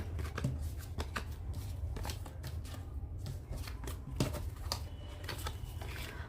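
Tarot cards being shuffled by hand, a dense run of close riffling and flicking bursts with soft slaps, continuing steadily throughout.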